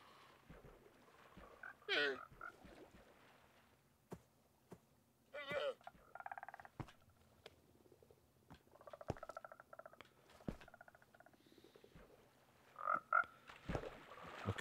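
Frogs in the Minecraft Feed The Beast modpack give scattered short croaks and chirps, quiet and intermittent among soft ticks and clicks of in-game sounds.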